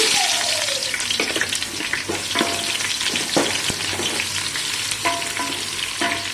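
Onions sizzling in hot oil with curry leaves, cardamom, cloves, bay leaf and cinnamon, cooking for a mint mutton biryani; a steady close crackling fry with occasional stirring clatter, no talk.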